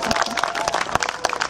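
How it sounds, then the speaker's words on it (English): Crowd round of applause at a castle medieval reenactment show, dense clapping from many hands that holds steady throughout with a few sharper claps standing out. "Big round of applause."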